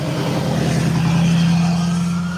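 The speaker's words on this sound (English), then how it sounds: "This is a big truck." A big truck drives past out in a field, its engine a steady low drone that rises slightly in pitch as it accelerates, loud and close for the whole stretch with no talking.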